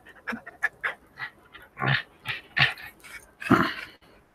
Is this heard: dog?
yes